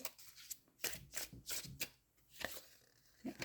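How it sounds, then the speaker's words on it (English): Tarot cards being drawn and handled from a deck: a run of soft papery swishes and slides in irregular bursts, close and fairly quiet, with no talking. "so I guess I'm going to get 2 more cards here"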